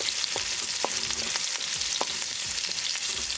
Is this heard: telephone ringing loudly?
no